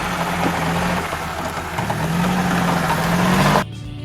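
Suzuki LJ80 off-road vehicle from 1977, with a 797 cc inline-four four-stroke engine, running at a steady, loud drone with slight pitch shifts before it cuts off abruptly near the end.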